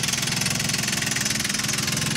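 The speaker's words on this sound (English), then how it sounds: "You can hear the cam chain is a bit rattly." A 2001 Vauxhall Corsa 1.0 engine idles steadily with a worn, rattly cam chain, giving a fast, even metallic chatter over the low engine hum, close and continuous with no talk.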